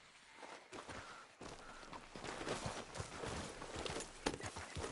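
Horse hooves walking at an easy pace in the video game Red Dead Redemption 2, a continuous run of soft clip-clop steps over a faint outdoor background, with no one talking.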